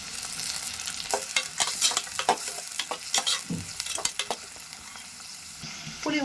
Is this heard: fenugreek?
yes